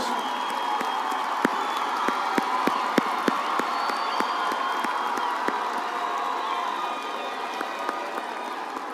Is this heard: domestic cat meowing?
no